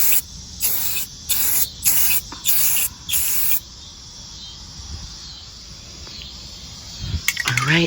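Bursts of aerosol spray paint hiss in a quick series of short blasts while a coat goes onto mass-produced vintage figurines, then fading to a quiet room with faint rustling.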